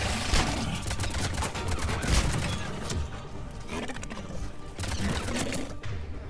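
Grenade blasts and gunfire in the Mass Effect 3 video game, a dense stretch of loud booming impacts and crackling combat noise with no talk.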